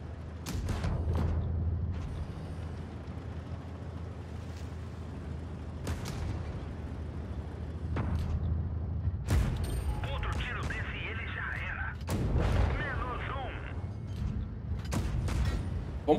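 Gunfire in a live-streamed Halloween video game session, with a few sharp booming shots spread across the stretch over a steady low game rumble and mechanical clatter.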